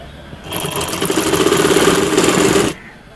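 A sewing machine stitches a 1/4-inch elastic strip onto baby clothes, one continuous loud whirring run of about two seconds that starts and stops abruptly, heard close up with no talking.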